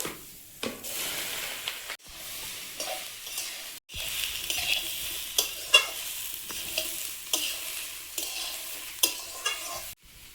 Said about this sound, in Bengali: চিচিঙ্গেটা আগে ভেজে নেব